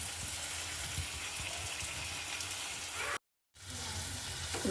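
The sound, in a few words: soaked dry prawns added to sizzling curry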